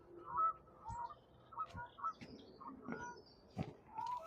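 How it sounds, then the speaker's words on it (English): Several geese honking repeatedly in irregular overlapping calls, moderately distant, with no talking, near a footpath in Surrey. "And the geese are going for it."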